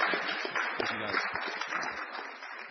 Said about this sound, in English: Can we get a round of applause for our panel?